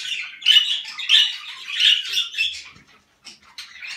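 Several Indian bulbuls squawk and chatter in a series of loud, harsh calls, close by, followed by a brief pause and a few fainter chirps.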